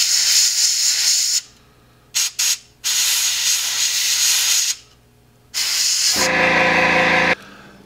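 Airbrush spraying paint onto a 1/72 scale Das Werk U9 U-boat model, heard as several bursts of steady hiss, close and loud, each lasting one to three seconds with short pauses between.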